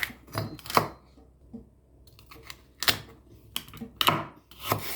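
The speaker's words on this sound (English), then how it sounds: "Then cut the celery into cubes." A knife chops a celery stalk into cubes on a board, giving crisp, irregular thuds in short bursts with brief pauses between them, close and fairly quiet.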